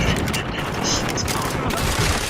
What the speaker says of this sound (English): Shotguns are fucking back.